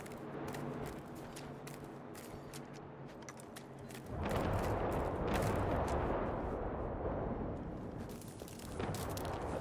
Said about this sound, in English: That sounds like the big explosions.